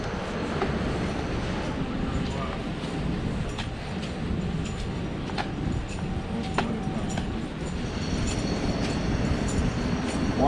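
A New York subway train rumbles steadily in a station, with low rolling noise, occasional rail clicks and faint squeals, continuous throughout.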